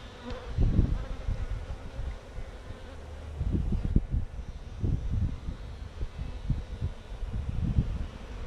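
Honeybees buzz around an open hive, a close, uneven low drone that swells and fades in bursts as bees fly near, with handling noises from the hive in between.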